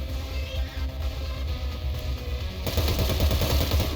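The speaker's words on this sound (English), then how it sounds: "You hear the gunfire." Full-auto gunfire from the video game Cyber Knights: Flashpoint rattles in steady, rapid bursts throughout and grows denser and louder in the final second and a half, with no voices.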